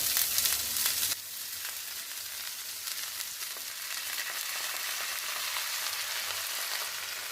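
Chopped amaranth leaves hit hot oil in a pan with a loud burst of sizzling. The frying then settles into a steady, even crackle that carries on to the end, with no talking.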